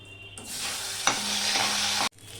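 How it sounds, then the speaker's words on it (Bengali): Magur fish frying in a pan and being turned over, a steady broadband sizzle that swells loudly after a quiet start, with a sharp stir clatter midway, then cuts off abruptly near the end. "এইভাবে নেড়ে দিলাম মাছগুলো না বেশি ভাজে না"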